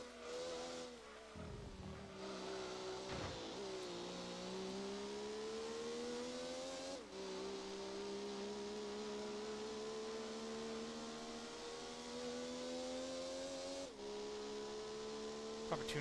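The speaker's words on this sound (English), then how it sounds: "Add a little bit of reverb to this, and you can probably get a pretty decent Need for Speed Underground 1 engine sound." Race car engine in Gran Turismo 2 holding a steady loud drone with sustained revs, pitch climbing gradually, dipping briefly at gear changes around every few seconds, mechanical hum throughout and no voices.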